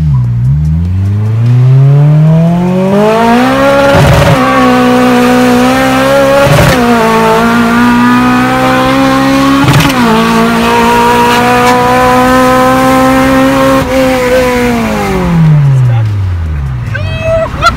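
A nitrous-equipped drag race car on slick tires makes a loud, sustained pull, its engine pitch climbing steadily, with several sharp gear-change breaks along the way before it winds down near the end.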